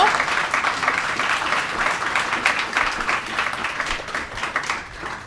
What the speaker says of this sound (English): we'll get the relief of applause